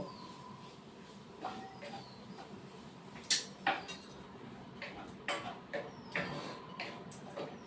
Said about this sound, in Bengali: এবার আদা বাটা দিচ্ছি দিয়ে আবার একটু কষে নিব